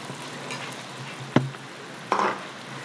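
Quince pieces sizzle softly as they caramelize in a frying pan, a low steady crackle broken by two sharp clinks of a utensil against the pan.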